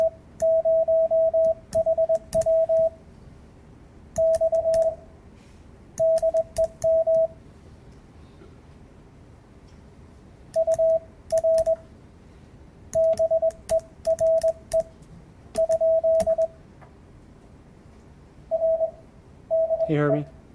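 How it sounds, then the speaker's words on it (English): Short bursts of steady Morse code sidetones from ham radio CW operators beep in groups with pauses between, clear and fairly loud against quiet hiss. "we're both sending our side tones back and forth"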